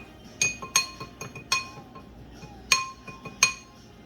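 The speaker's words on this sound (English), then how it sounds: "stir this up real good" A utensil clinks against the side of a glass bowl while a sugar mixture is stirred for bread dough: about six sharp, ringing taps at irregular intervals, close and clear, with soft scraping between them and no talking.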